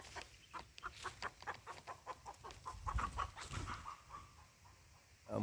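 A chicken clucks faintly in a quick, repeated rhythm of short pecks and calls, with some low rumbling mid-way and a soft thump at the end.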